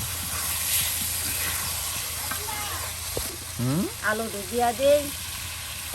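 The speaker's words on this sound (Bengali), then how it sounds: "মাংস ভেজে নেওয়া মাংসগুলো দিয়ে দেওয়া হলো একদম কষা কষা করে নেওয়া হচ্ছে" Chicken pieces frying and being stirred in spice paste in a pan, with a steady close sizzle and hiss throughout and a voice talking over it in the second half.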